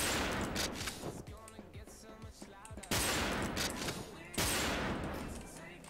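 Gunfire in a shooting video game, with loud bursts of rapid shots and sharp single blasts, along with talk over the action.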